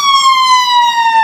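An ambulance siren goes by as a loud, sustained electronic wail whose pitch sags slightly as it passes, brief and alone.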